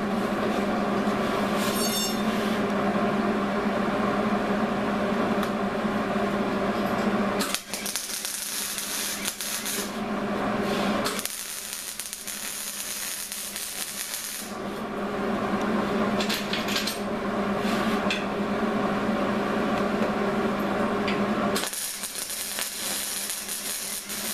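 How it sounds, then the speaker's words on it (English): Quarter-inch metal pieces being welded, heard as several long bursts of harsh crackling sizzle broken by short pauses, with a steady electrical hum underneath throughout. "So I'm gonna weld a few of these on here now."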